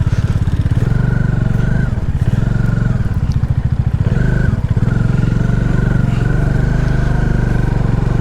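A motorcycle carrying a pillion passenger runs along a rough off-road mountain track in Sikkim, its engine thrumming loud and close with a steady throb, brief dips and surges of throttle, and faint rattles from the bike.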